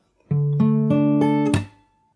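Fingerstyle acoustic guitar playing a passage, a short run of four bright plucked notes building quickly to a sharp percussive slap on the strings, then a brief ringing decay.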